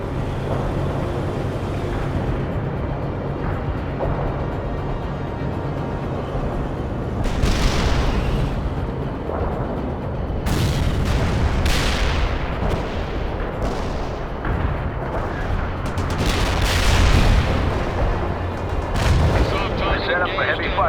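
An artillery barrage in the World in Conflict war game sends deep, rolling explosions over a constant rumbling din, with several louder booms bursting in during the second half and voices speaking briefly.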